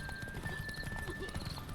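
Horse hooves galloping in The Witcher 3, a steady rapid clip-clop under busy game sounds with a brief whinny, close and fairly loud throughout.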